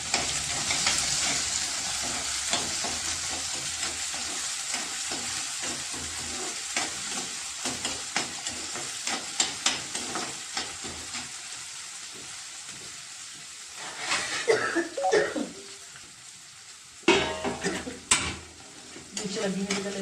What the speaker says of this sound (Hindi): और साथ में डाल रही हूँ मैं ये 2 मीडियम साइज के जो मैंने प्याज लिए थे वो डाल रही हूँ।